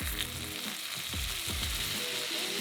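Vegan sausages frying in a pan for a breakfast sandwich, a loud continuous sizzle with crackling bursts and occasional scraping stirs, close up and with no talking.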